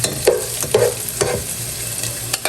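Chopped onion, garlic and tomato sauté in a hot pan for mung bean stew with crab, a steady close sizzle broken by several scraping stirs, with no voices.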